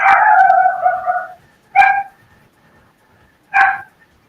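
A dog gives a long drawn-out bark followed by two short, sharp barks at spaced intervals, close and loud, with quiet between them indoors.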